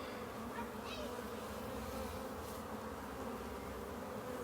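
Bees buzz around a hive in a faint, steady, continuous hum with no break, distant and alone, as many insects drone together.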